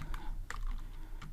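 Code being typed on a computer keyboard: a short, quiet run of soft key clicks, with no voice.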